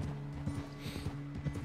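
Horse hooves clip-clopping at a trot in the Red Dead Redemption 2 video game, a steady rhythmic run of hoof beats over a low continuous game hum.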